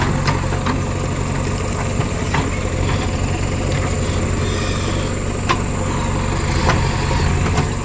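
A tractor engine idles steadily in a field during a stuck sugarcane trolley recovery, a continuous low diesel rumble with faint knocking and a few scattered clicks and distant sounds over it.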